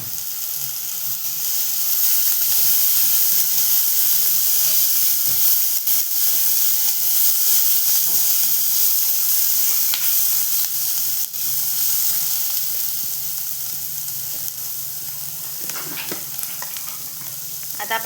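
Chana dal frying with onion in a pan for a raw tomato curry, giving a steady loud sizzle and hiss throughout, with occasional stirring scrapes and no talk.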